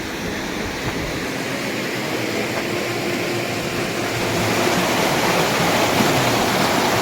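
Water in an old irrigation canal beside a temple at Hampi gushes and roars steadily throughout, a dense, constant rush like a strong flow through a channel, close and loud with no voices.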